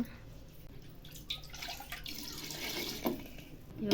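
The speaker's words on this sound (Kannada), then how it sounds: "ಸ್ವಲ್ಪ ನೀರು ಆ್ಯಡ್ ಮಾಡ್ಕೋತಿದ್ದೀವಿ" Water pours and trickles into a pot of chicken sambar, with a few small clinks and drips, fairly quiet and continuous.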